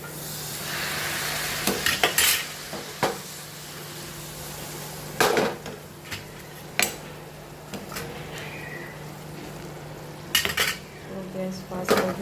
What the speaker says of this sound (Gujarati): બસ હવે આમાં જ એડ કરી દઈશું સાંભાર મસાલો. તો હલાવી દઈશ.